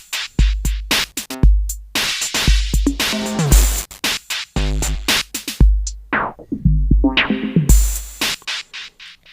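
Roland 606 drum loop drenched in distortion, bitcrushing redux, delays, a ringing resonator, sweeping filter and reverb; crunchy hits smear into pitched echoes and swooshing filter sweeps, dense and loud throughout.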